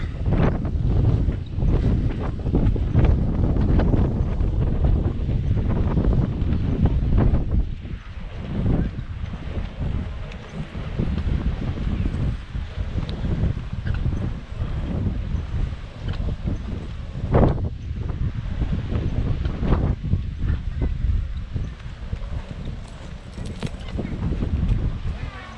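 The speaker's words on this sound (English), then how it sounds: "Ooh, the wind picks up." Strong wind gusts at Playa de Palma beach in Mallorca, roaring and buffeting the microphone in heavy continuous rushes that ease slightly partway through, with no talking.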